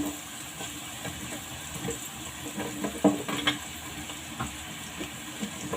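Drumsticks fry and get stirred with half-fried onions in a pan, producing a steady sizzling hiss with soft scraping and clinking stir sounds throughout, no talking.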